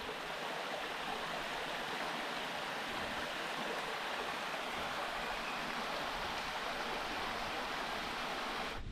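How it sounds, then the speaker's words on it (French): The ruisseau de Nise, a small stream running over little cascades along a Massif Central trail, a steady, even rush of water that fills the scene without a break and with no voices. "Quand ça coule comme ça, ouais, il y a des petites cascades"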